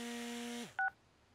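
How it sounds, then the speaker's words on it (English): Cartoon cell phone giving a steady dialing tone that cuts off with a falling pitch, followed by one short, clear two-note keypad beep, all fairly quiet. "It's Love's mighty cell phone."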